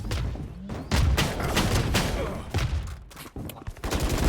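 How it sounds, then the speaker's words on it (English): Missile barrage in the Valorant video game, a rapid volley of sharp booming launches and explosions in dense overlapping bursts, loud and close, with brief gaps between salvos. "All missiles away."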